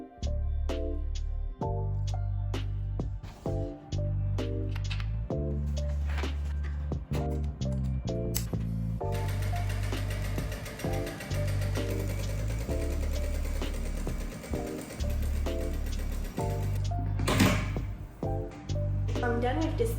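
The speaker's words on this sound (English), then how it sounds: "the first thing we have to do is to place a stay stitch around the net edge for" A sewing machine runs a stay stitch around the neck edge of a front-tie top bodice, its steady mechanical whir continuing throughout under music.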